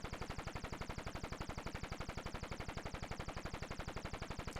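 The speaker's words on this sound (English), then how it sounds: "I can just shoot the planes down with my guns" Rapid, steady bursts of electronic machine-gun fire from an Atari arcade game as planes are shot down, a fast unbroken rhythm running loud and close throughout with no talking.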